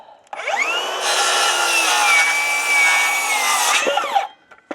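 Power saw cutting through a wooden wall stud: a single continuous, close, loud whining cut lasting about three seconds, with the motor spinning up before and winding down after.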